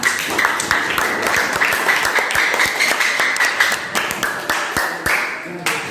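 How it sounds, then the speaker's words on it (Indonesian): A classroom of students claps for a classmate, with quick, sharp hand claps that build into a steady round of applause and keep going close by for several seconds. "kalau tidak ada kasih aplaus untuk Elva"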